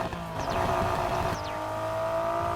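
Nissan Skyline GT-R in the racing game Need for Speed Heat revving hard, a loud continuous engine roar with pitch sweeps up and down and a brief tire-squeal-like whine, steady and close throughout.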